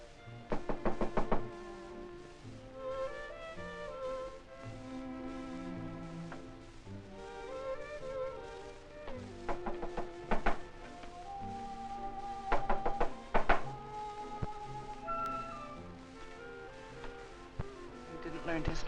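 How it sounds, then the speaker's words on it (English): Knocking on a door in a 1947 film scene, several short bursts of sharp raps spaced through the clip, heard over a gentle orchestral music score. "Isn't someone knocking?"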